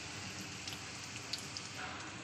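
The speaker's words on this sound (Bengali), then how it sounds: "তো তেলের সঙ্গে পেঁপে আলুটাকে প্রায় 1 মিনিট ধরে ভালোভাবে করবো।" Papaya and potato pieces fry together in hot oil in a home kitchen, giving a steady, soft crackling sizzle with a few brief pops, close and continuous throughout.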